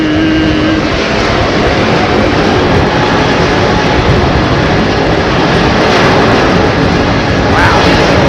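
A jet airliner departing Heathrow runway 27R roars loudly and steadily as its engines spool up at derated thrust, a dense close-range wash of engine noise with no talk.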